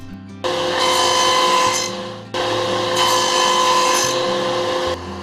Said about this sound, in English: I cut a shallow groove around the inside of the box.